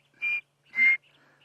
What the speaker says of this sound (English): Chinspot batises.